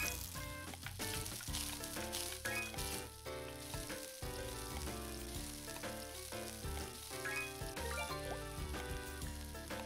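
Food frying in two pans in the cooking game My Universe Cooking Star Restaurant, a soft continuous sizzle beneath loud game music throughout.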